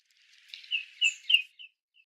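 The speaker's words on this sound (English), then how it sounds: "Slide to hear the sound of the bird." Recorded bird calls from an online bird sound map, a short series of four or five bright chirping notes with gaps between them, clear and alone with no talk.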